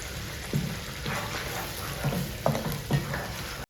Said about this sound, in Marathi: तर चला वाटण आहे ना भाजून घेतो